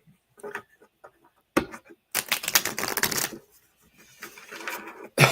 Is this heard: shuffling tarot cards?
yes